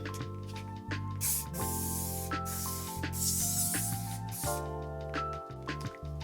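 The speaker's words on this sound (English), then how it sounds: "I'm going to go in with my oil sheen spray" An oil sheen hair spray is sprayed onto a braided wig in several short hissing bursts, close and fairly loud, over quiet background hum.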